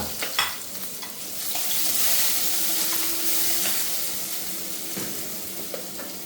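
Garlic and onion fry in hot oil with mustard seeds and cumin, a dense close sizzle that swells and hisses while a spoon clatters and scrapes now and then, with no voices.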